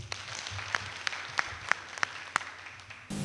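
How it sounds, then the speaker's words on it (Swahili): An audience at a SACCO society annual general meeting in Nairobi claps together, a steady stretch of applause with a few sharp individual claps standing out before it cuts off. "Tujipigie makofi."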